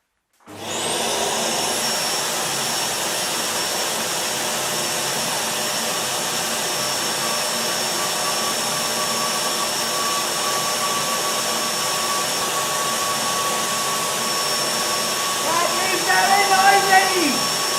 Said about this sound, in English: One noisy vacuum cleaner!